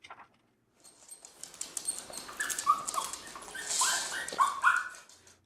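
A leashed dog lets out high, thin whimpering squeaks after spotting a cat, a few faint broken whines with light shuffling and patter, close by and without talking.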